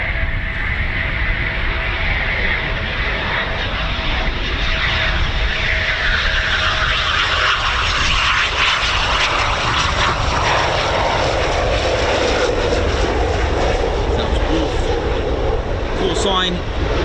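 A Eurofighter Typhoon FGR4 in 12 Squadron markings flies at RAF Coningsby at night, its jet roar loud and continuous with a slowly sweeping, falling whine as it passes.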